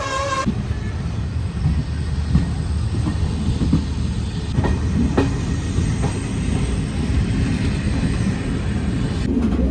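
Tutari Express running on rails in monsoon weather, a continuous close rumble of wheels and carriages with scattered metallic clicks and knocks, no voices.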